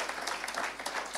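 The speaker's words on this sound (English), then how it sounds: "Let's give the Lord a big clap for the clergy." A church congregation marking a fellowship's 40th anniversary claps for the clergy. The applause is dense and steady for a moment, with no clear speech over it.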